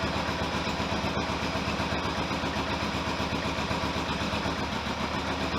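Kawasaki GPX750R motorcycle engine idling steadily around 800 to 900 RPM after a rebuild, a close, even mechanical burble with no rattles and no talking.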